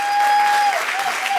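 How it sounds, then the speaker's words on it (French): Guests at a surprise birthday party applaud for mom in a short, loud burst of clapping and crowd noise, with a steady tonal note running beneath it. "Est-ce que nous pouvons applaudir pour maman,"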